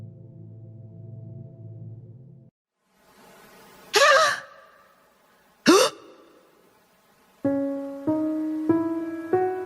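A woman's sharp gasp of shock and horror, a single loud breathy intake standing out between stretches of quiet, with swelling dramatic music before and after.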